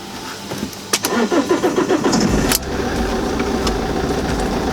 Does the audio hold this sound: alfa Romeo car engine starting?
yes